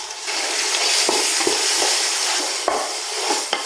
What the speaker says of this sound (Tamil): அதே போல் தக்காளியும் சேர்த்து நல்லா மசிய வதக்கிடுங்கம்மா.